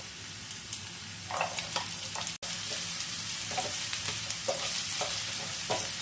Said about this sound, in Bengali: তেলের মধ্যে মেথিটা যখন দেয়া হবে তখন কিন্তু খেয়াল রাখতে হবে মেথিটা যেন পুড়ে না যায়